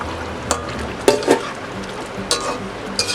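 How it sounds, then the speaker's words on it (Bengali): Fried egg dhoka pieces drop into a spiced gravy in a pan with a steady sizzle and a few sharp clinks and soft thuds of pieces landing and being nudged. "এবার আমি এই যে ডিমের ধোকাগুলো ভেজে রেখেছিলাম, এগুলোকে আমি এর মধ্যে দিয়ে দিচ্ছি"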